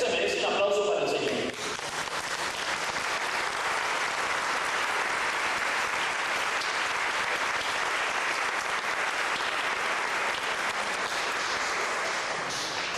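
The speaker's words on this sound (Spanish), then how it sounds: "Eso se merece un aplauso para el Señor." Sustained crowd applause from a church congregation praising the Lord, a dense steady wash of clapping that starts after a brief moment of speech and continues loudly and evenly to the end.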